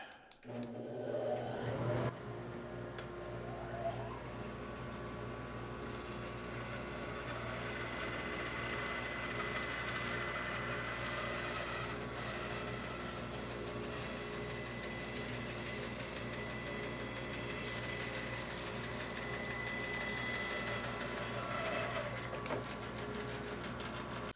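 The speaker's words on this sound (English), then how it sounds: "I'm just going to skim the top of this off" A bandsaw on a sled skims the top off a piece of spalted wood, a steady, continuous mechanical whine and drone that carries on without break after a brief start.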